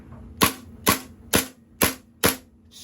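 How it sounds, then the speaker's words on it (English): A KWA Scorpion gas blowback airsoft pistol fires five snappy semi-auto shots at an even pace, each a sharp close crack with a short metallic tail. "we're going to throw this guy in semi, charge it, and I want to see how many mags we can get out of one gas fill on semi"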